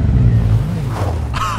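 A Ferrari engine starting up in the Fortnite video game, a loud low rumble building over a second or so and then rising into a higher, whining rev near the end.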